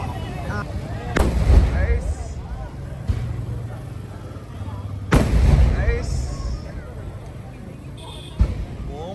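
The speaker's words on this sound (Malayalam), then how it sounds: "ഇപ്പൊ ഇതുപോലെ ബോംബ് പോലത്തെ സാധനം പൊട്ടിക്കൊണ്ടിരിക്കുന്നുണ്ട്" Firecrackers and bomb-like crackers burst at a temple festival in Chengannur. Two big booming blasts stand out over crowd noise, with smaller pops in between and someone talking throughout.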